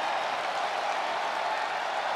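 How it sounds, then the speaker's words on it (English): Crowd ovation in the WWE 2K24 wrestling video game, a steady wash of cheering and applause from a large arena audience, continuous and loud with no breaks. "Listen to this ovation."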